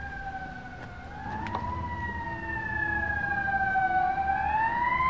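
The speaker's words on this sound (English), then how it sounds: "The sirens are perfect." Emergency vehicle sirens wail on a rainy city street, two long rising and falling tones sweeping slowly over a low traffic rumble, growing gradually louder as they approach.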